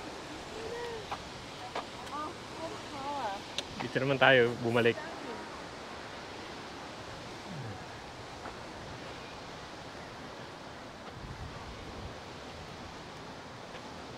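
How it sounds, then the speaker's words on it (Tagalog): Strong wind blows across an open tulip festival field, a steady broadband rush that carries on throughout, with people talking briefly over it. "Malakas lang ang hangin."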